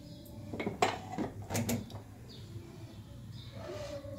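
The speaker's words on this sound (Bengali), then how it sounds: "দিয়ে এখানে কড়া বসিয়ে দিচ্ছি" Metal kadai (wok) set down on a gas stove, a few close clanks and scrapes of cookware in a quiet kitchen, followed by faint rustling.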